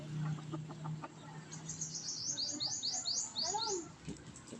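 Chickens on a backyard farm, including roosters about nine months old, chirp and cluck in a close flock, with a run of rapid high calls through the middle and a few lower cackles near the end.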